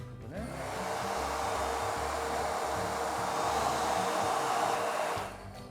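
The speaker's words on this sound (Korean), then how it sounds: "저는 좀 더 걱정이 돼서 드라이기로 뜨겁게 만든 다음에 꼽아 보겠습니다." A hair dryer blows steadily for about five seconds, heating a water hose to soften it for fitting onto a camper van's fresh-water filter system, with a loud even whoosh that starts and stops abruptly.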